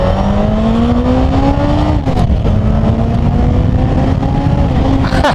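A Yamaha XJ 650 Turbo motorcycle engine pulls hard under acceleration, its loud, close droning note climbing steadily, dipping briefly at a gear change, then rising again with heavy wind rush.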